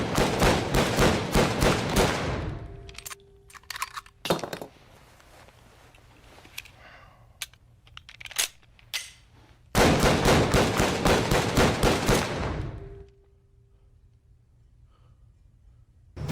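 Automatic MP40 submachine gun fire from the Medal of Honor video game, with two long loud bursts of rapid shots separated by scattered single shots and a quieter stretch.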